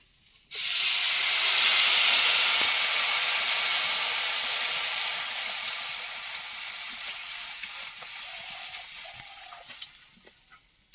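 A loud, steady hiss and sizzle bursts out suddenly as water is poured over potatoes in a hot pan, slowly fading over several seconds, with no talking.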